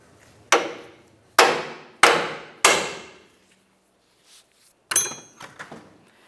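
A hammer strikes the nut on the front left inner drag link of a 1994-2002 Dodge Ram, four loud, evenly spaced metallic bonks with short ringing decays, then a pause and a cluster of lighter clanks and taps close by.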